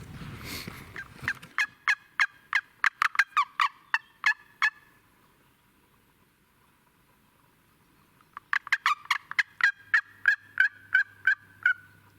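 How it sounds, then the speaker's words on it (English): A wild turkey gobbles in two rapid rattling bursts separated by a quiet pause, sounding fairly distant in an otherwise still outdoor morning setting in Arkansas during spring turkey season. "He started gobbling again."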